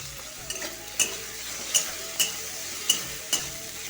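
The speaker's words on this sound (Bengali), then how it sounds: "ভালো করে মশলাটাকে কষিয়ে নিতে হবে। চলো টমেটোগুলো দিয়ে দিই।" Masala paste of ground poppy seeds, melon seeds and cumin fries in a pan with steady sizzling, broken by about six sharp stirring scrapes or taps at even intervals.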